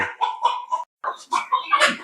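Free-range village hens on a goat farm cluck in a quick, close series of short calls with a brief pause midway.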